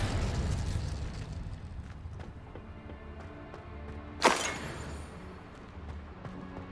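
A Confringo explosion spell goes off in Hogwarts Legacy, one sharp bright blast midway through, standing out above a steady low rumble of battle ambience.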